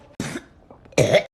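Someone coughing in public: two harsh, close coughs separated by a short pause, the second louder and longer.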